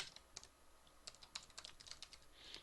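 Typing on a computer keyboard, quiet and close, with irregular bursts of crisp key clicks separated by short pauses.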